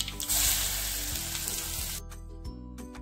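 Cumin, mustard, coriander and fennel seeds frying in hot oil for a samosa filling, a loud close sizzle that eases after a couple of seconds into quieter crackles, with a steady music bed underneath.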